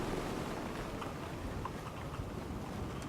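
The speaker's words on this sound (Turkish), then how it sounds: "Fırtına devam ediyor" A storm rages on the Paracel Storm map of Battlefield 4, with a dense, constant roar of rain and wind around a ship at sea, moderately loud and without voices.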